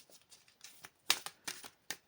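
Tarot cards are shuffled by hand for a reading: a quiet run of crisp riffling snaps and soft flutters in uneven bursts, close up, with no talk.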